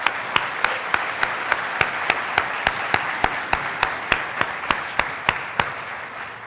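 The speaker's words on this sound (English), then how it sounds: "So could we have a round of applause for Anne?" Light applause at a conference talk, with a steady wash of clapping under a sharp, evenly spaced ticking that repeats about three times a second from start to finish.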